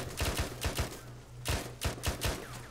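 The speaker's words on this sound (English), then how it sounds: "They're firing at the window from just below it." Gunfire in Arma 3 aimed at a window from just below it: quick clusters of sharp shots in bursts of two to four, fairly close, with a steady low hum underneath.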